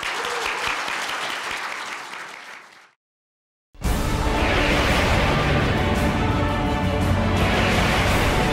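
Large audience applauding at a Korea University newspaper's 70th anniversary ceremony, a loud dense roar of clapping that fades out, cuts to silence, then returns at full strength.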